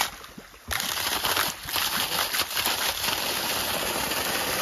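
Water gushes hard from a newly fitted CRI 5 HP solar pump outdoors on a farm, a loud, dense rushing roar that starts abruptly and then runs on steadily.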